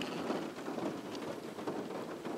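Rain pours outdoors as a dense, steady hiss of drops on surfaces with no break, close and fairly full, no talking heard.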